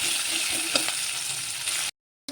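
Onions frying in oil previously used for frying fish, a steady close hiss and sizzle with faint stirring clicks that runs continuously, then cuts off abruptly near the end.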